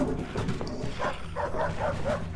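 A dog in the video game Infernium makes a series of short, repeated vocal calls with a whimpering, barking quality, moderately loud over a steady game ambience.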